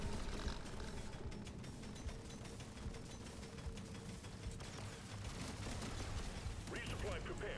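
Rapid weapon fire in the video game Deep Rock Galactic: Survivor, likely a plasma weapon, crackles as dense continuous bursts and clicks layered over busy game sound effects, with a voice faintly present underneath.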